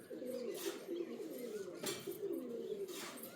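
Pigeons coo nearby in soft, repeated throaty phrases with rolling rhythm, over faint background noise in a home loft.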